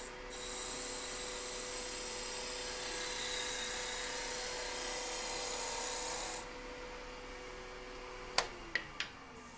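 A wooden sphere spins on a lathe as the cutting tool works it, giving a steady, loud broadband scraping whir that stops partway, followed by a few sharp knocks.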